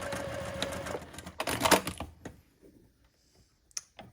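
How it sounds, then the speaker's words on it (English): A sewing machine runs in a short whirring burst while back stitching around a fabric letter S, then stops, leaving near silence with a few faint clicks and a brief tap at the end. "once I turn, here is where I'll do the back stitching"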